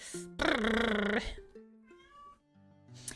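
A cat meows repeatedly in a long, close, drawn-out sequence of tonal calls, one of them loud and sustained, with a few softer meows following.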